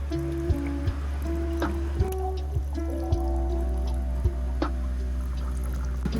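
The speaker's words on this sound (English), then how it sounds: "Then fill the jar with clean water." Clean water pours into a jar in a steady trickle with rising tones as it fills, punctuated by several small drips and clinks, close and fairly clear.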